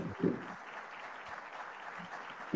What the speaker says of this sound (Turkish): Herkes de alkışlıyor.